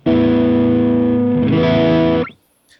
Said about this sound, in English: this is my old Ibanez RG I've had since I was like 15